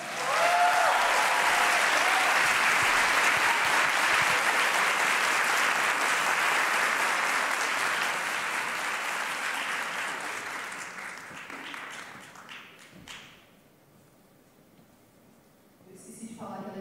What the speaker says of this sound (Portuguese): Eu gostaria que vocês recebessem com muitos aplausos e muito carinho Doralice